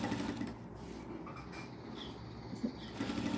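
A sewing machine stitches lace onto the edge of a dupatta, giving a steady, low mechanical whir that runs evenly throughout at a fairly quiet level.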